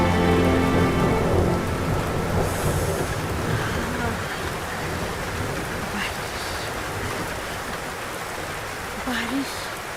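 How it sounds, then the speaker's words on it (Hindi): Heavy rain pours down steadily in a dense, hissing roar, with voices talking over it. "देख बारिश आई।"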